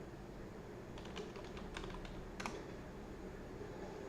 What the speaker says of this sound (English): I'm just typing now.